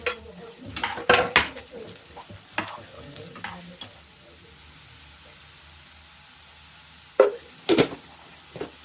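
Vegetables go into a hot pan and are stirred, giving clattering utensil scrapes and knocks over a low frying hiss, a quieter sizzling lull, then two more sharp stirring clanks near the end.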